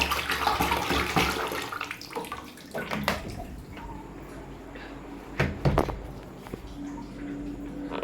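Tap water runs in a bathroom while a mango is washed under it. The splashing stream is steady and close, broken by sharper knocks and clatter partway through, with no speech.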